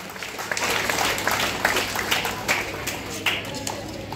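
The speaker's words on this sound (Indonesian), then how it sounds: "Tepuk tangan untuk kita semua" Applause from a crowd at a Catholic parish's 15th anniversary reception in Sarmi, with a steady wash of clapping lasting several seconds alongside some voices.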